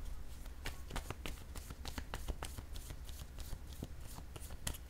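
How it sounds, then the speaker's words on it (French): A tarot deck is handled while cards are laid down one by one, making a quick run of crisp papery flicks and taps in a quiet room, close and faint. "je vais déposer une carte ici, une carte de mon jeu haut encore"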